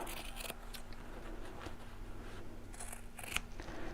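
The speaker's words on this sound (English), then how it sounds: "So I'll measure the one and cut that out." Scissors snipping through stretch fabric while a sewing pouch is cut out, a close run of crisp, repeated cutting strokes with small rustles between them and no talking.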